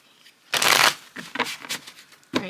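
Tarot cards riffle-shuffled up close, a dense papery burst followed by several shorter flutters and taps as the deck is squared and shuffled again.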